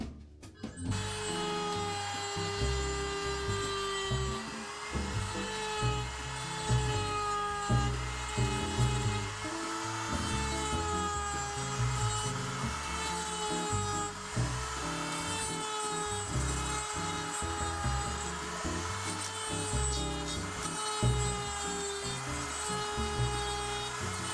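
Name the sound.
rotary tool with steel bit carving a wooden tiki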